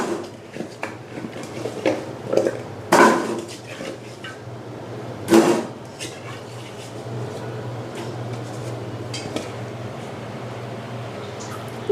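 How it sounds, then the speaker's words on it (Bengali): Cut, washed elephant foot yam pieces go into a pressure cooker, giving a few sharp metallic clanks and knocks, two louder ones standing out, over a steady low kitchen hum. "প্রেশার কুকারে এখন আমি ওলগুলো দিয়ে দিব।"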